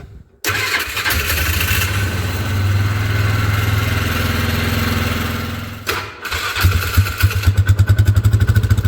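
A 2002 Polaris Ranger engine cranks over, catches and runs at a steady loud idle up close, then settles into a throbbing, rhythmic putter near the end.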